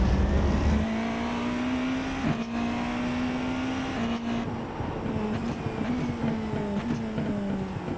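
A hypercar engine drones steadily on a race track, a held tone that rises and falls a little with speed shifts and a brief lift around the middle, with a constant rushing background.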